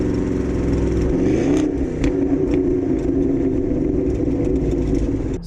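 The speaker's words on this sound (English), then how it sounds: "they introduced the 5 litre V8, which I've got in this car right now, and you should hear it." A Jaguar XKR's 5-litre V8 revs hard and steadily close by, its deep throaty drone swelling and climbing in pitch partway through with no talk over it.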